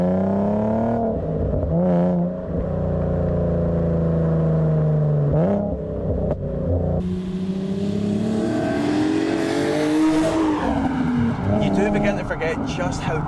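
A Nissan sports car engine drops through gears under heavy braking, with sharp throttle blips and revs rising and falling, loud and close, with a voice speaking over it.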